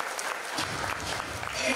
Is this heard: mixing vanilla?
no